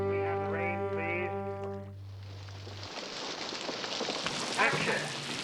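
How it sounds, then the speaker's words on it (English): Steady broadband hiss of rain fills the clip, rising in density near the end, after a short burst of sung or musical tones at the start. "We have the rain, please."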